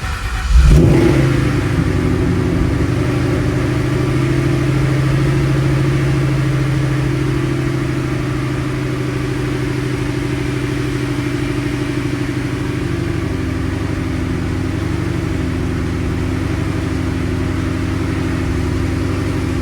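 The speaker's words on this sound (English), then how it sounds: "Let's go ahead and start the car and see if we can read any RPMs." A 2014 Ford Mustang 5.0 engine turns over with a sudden burst, then settles into a steady, fairly loud running hum that continues without a break.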